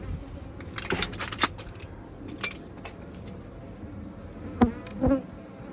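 A steady low buzz of honey bees at a Flow Hive during an inspection fills the background, with scattered clinks and knocks of handled hive equipment up close.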